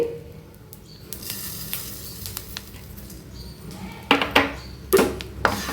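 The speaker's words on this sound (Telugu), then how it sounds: "ఇప్పుడు నువ్వులు వేసుకుందాం నువ్వులు ఈజీగా వేగిపోతాయి" Sesame seeds dry-roasting in a pan after peanuts, a soft patter of light crackles and scattered pops that grows into louder stirring scrapes toward the end, close up.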